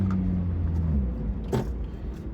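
A slow car's engine pulling uphill under light throttle, a low steady drone close by with a brief sharp rattle partway through.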